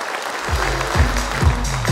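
A crowd claps loudly and continuously for new leaders at a birthday celebration, with steady dense applause and regular low thumps underneath.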